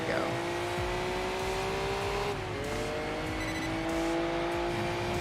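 A Mazda Miata's engine revs and shifts in the Enthusia Professional Racing video game, a steady loud drone that dips and climbs as the car drives, with tire noise under it.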